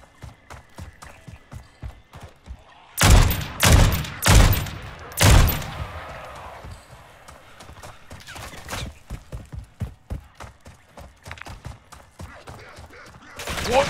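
Gunfire in the video game Call of Duty Modern Warfare 3, with a burst of four loud, close shots followed by a long rapid string of quieter, clipped shots that continues steadily to the end.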